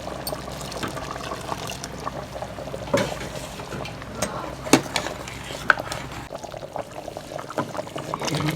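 Ground coconut and fennel paste poured into a simmering goat leg curry, a steady wet pouring and bubbling texture throughout with a few sharp clinks of utensils, close and moderately loud with no talking.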